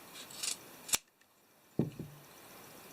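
Scissors snipping yarn while making a plush from fuzzy socks: two short, crisp cuts close up, the first a sharp single snip and the second a brief double snip, in a quiet room with no talking.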